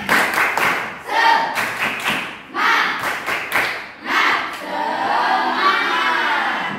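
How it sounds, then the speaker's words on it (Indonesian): A classroom of children clap the 'tepuk semangat' cheer, loud rhythmic bursts of group clapping in patterned groups with short pauses, ending in a looser wash of claps and crowd noise. "Coba supaya anak-anak lebih semangat, tepuk semangat."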